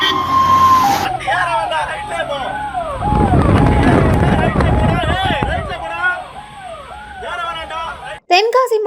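A loud ambulance siren wails in rapid rising and falling cycles, close by, with heavy traffic rumble and a voice underneath.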